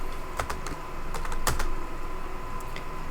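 Keystrokes on a computer keyboard while C++ code is entered, a quick irregular patter of clicks with a brief flurry around the middle, close and clear with no talking.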